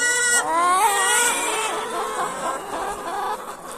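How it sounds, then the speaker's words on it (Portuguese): Many hens in a farm coop at night cluck and squawk over one another in a busy, continuous flock chatter, close and fairly loud. "Olha só nossas galinhas aí."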